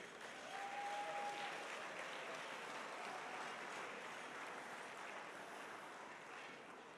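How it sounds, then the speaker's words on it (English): A gala crowd gives a faint, distant round of applause, a soft, even hiss of clapping that holds steady and then slowly tapers off. "please give yourselves a round of applause for being here tonight."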